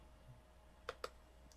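A computer mouse clicks twice in quick succession, then gives a fainter third click, soft and close over a quiet room hum.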